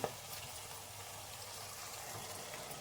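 A ground masala paste fries in a pan while preparing a green pea rice bath, a soft steady sizzle throughout at low level.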